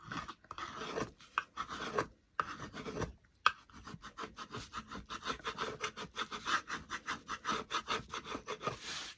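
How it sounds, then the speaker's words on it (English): A scraper takes dried paint off a wooden spindle birdhouse in steady, rhythmic rasping strokes, close and moderately loud, with a few short pauses between passes and no talking. "And then we'll scrape it off and see how it works."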